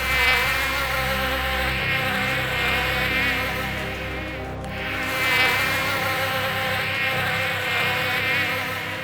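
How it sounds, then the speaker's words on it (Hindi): A small motor whines with a buzzing drone like a housefly, a steady hum carrying wavering harmonics that dips briefly midway and then resumes, close and prominent, with no talking. "इस मक्खी की आवाज वाले मोटर का।"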